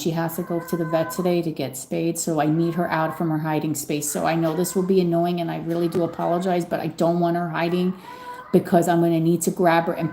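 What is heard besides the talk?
No everyday noise stands out behind the speech.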